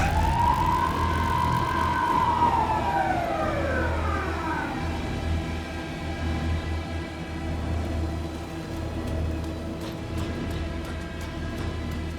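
A police car siren in the video game Alan Wake 2 wails in a long falling sweep, then fades, leaving a steady low engine-like rumble and ambient hum underneath.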